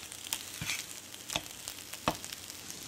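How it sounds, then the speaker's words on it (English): Canadian bacon frying in a pan for a keto breakfast, a steady close sizzle broken by a few sharp crackling pops, no voices. "Our Canadian bacon has been cooking, so I'm just going to flip it."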